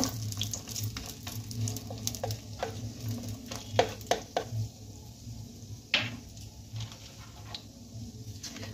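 Cashews fry gently in a pan for carrot halwa, giving a low, steady sizzle. Light stirring taps and scrapes come through at a moderate distance, with a few sharper clicks near the middle.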